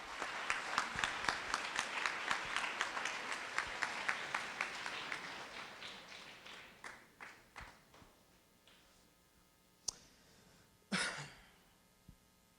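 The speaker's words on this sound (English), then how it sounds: "One more round of applause for these girls." Audience applause for the girls at an 8th grade awards ceremony, steady clapping that fades out over several seconds, followed by a few scattered claps and brief noises.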